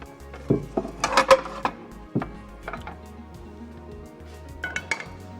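A frying pan is picked up and set down in a kitchen while a green shakshuka is being made, with several metallic clanks and clinks close by over a low steady hum. The clatter is fairly loud and comes in irregular bursts.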